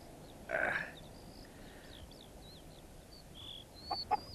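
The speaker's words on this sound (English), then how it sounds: "the hen dropped the keys and flew off" A hen in a tree gives a short, sharp cluck followed by a few softer clucks, faint and set against chirping birdsong and a low outdoor hush.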